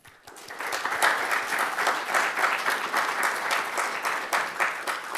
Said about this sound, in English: give a round of applause to the Rust community as a whole